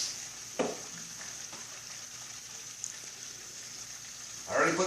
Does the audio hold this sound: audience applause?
no